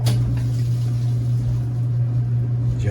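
A clothes dryer runs with a cleaned vent, giving a steady low motor hum under a continuous rush of blowing air, close and fairly loud.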